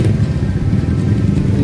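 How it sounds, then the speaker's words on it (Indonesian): Vehicle exhaust rumbling along a village road, a low throbbing engine note that stays steady and close without a clear rev, with faint talk mixed in. "Wah, suara knalpot ini."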